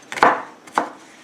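Two sharp knife strikes cut through garlic on a cutting board, close and distinct, about half a second apart with a brief ringing tail after each.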